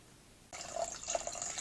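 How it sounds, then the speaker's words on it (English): Water is poured into a container for homemade newspaper paper, starting abruptly as a steady splashing, trickling stream that continues close and loud; no talk. "pour all of the water"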